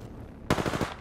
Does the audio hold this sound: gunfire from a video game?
yes